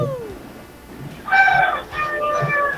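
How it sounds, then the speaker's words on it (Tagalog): A rooster at the neighbouring house crows twice in quick succession, loud and fairly close, over faint background noise. "Ano yung mga manok na nagtitilawak sa'yo?"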